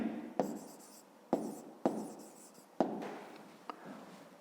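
A pen writes out a fifth-grade maths solution on paper in a few short, distinct scratching strokes separated by brief pauses, close and fairly quiet.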